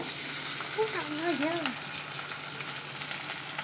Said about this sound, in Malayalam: വേപ്പില ഇട്ട് കുറച്ച് വെളിച്ചെണ്ണ ഒഴിച്ചു. അതിലേക്ക് നമ്മൾ സവാള ഇട്ടു